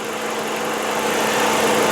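A 2004 Chrysler PT Cruiser GT's turbo engine revs up, a steady buzzing drone that rises slightly in loudness, close and alone.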